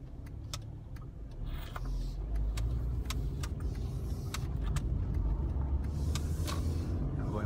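A car drives slowly through a town centre high street, with a steady low engine and road rumble up close and faint scattered clicks and knocks over the top, no voices.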